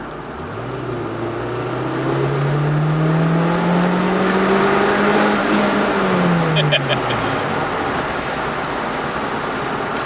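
A Toyota Celica GT-Four RC accelerates hard in second gear, close by and loud. The engine note climbs steadily for several seconds, then drops off as the pull ends, over a constant rumble of road and cabin noise.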